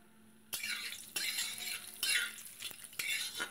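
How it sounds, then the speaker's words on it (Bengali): A pinch of sugar stirred into hot oil in a pan with whole garam masala and bay leaf, producing soft sizzling and repeated scraping strokes of a utensil, close and steady. "দেখো একটু নেড়ে চেড়ে 1 চিমটি চিনি দিয়ে দিলাম তেলের উপর।"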